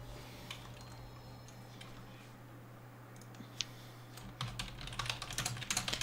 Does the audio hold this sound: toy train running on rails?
no